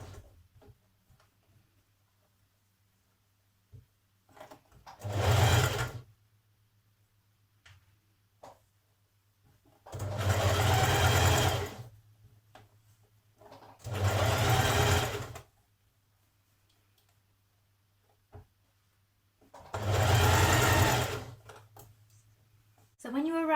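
Short bursts of a sewing machine stitching around a blouse neckline, four separate runs of a few seconds each with quiet pauses between them, close and fairly loud over a faint background hum.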